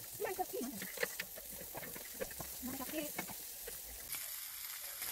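Hotdogs cooking over heat at an outdoor mountain birthday gathering, a soft frying sizzle with stirring noises beneath close conversation and voices.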